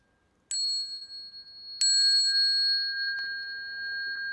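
Bells rung for a Buddhist bell song: two clear, bright strikes about a second apart, each leaving a long, ringing high-pitched tone that lingers and slowly fades, close and fairly quiet.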